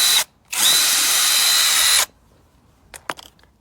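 An INGCO 20V cordless brushless impact driver running in reverse to back screws out, one loud, steady whir of about a second and a half, then a few faint clicks and knocks.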